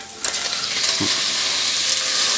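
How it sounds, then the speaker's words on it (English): Raw shrimp, about a pound, sizzling in a hot pan for a seafood lasagna, a loud, dense, steady frying hiss with a few soft stirring bumps, close up. "Now I'm going to put in my shrimp."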